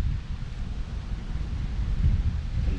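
Wind buffeting a microphone beside a lakeside bank during kayak fishing, a steady low rumbling roar with gusty surges and no talking.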